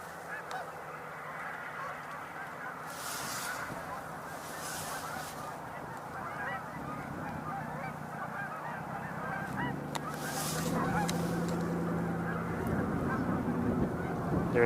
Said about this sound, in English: Lots of geese are in the air